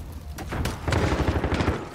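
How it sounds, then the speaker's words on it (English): Gunfire in Call of Duty: Modern Warfare, a loud close burst of rapid shots rattling in a continuous volley for under two seconds, with a few sharper cracks at the start. "Where am I getting shot from?"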